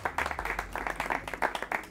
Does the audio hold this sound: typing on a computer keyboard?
no